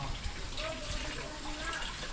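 Water gushing steadily through a repaired irrigation channel in a farm field, a continuous close rushing flow with faint voices underneath.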